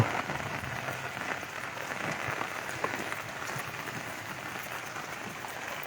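Steady rain falls in a rural Thai setting near buffalo, a dense even hiss of drops with scattered louder patters throughout, with no talking.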